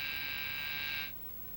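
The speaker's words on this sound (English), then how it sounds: "Why the buzzer?" A buzzer on a gambling ship in a 1941 film serial drones as a steady, loud electric tone for about a second, then cuts off, leaving a low hum.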